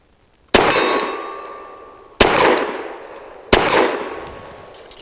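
A Saricam S-19 pistol loaded from a Glock-pattern magazine fires three sharp, loud rounds at uneven intervals, each crack trailing off in a ringing echo, with no talking.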